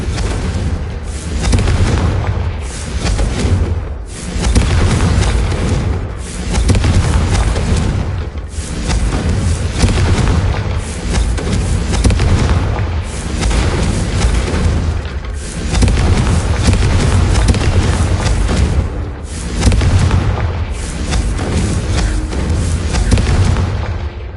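Blast spell explosions in the video game Hogwarts Legacy boom loudly over and over, roughly every two to four seconds, each a heavy burst with a short decay, no speech between.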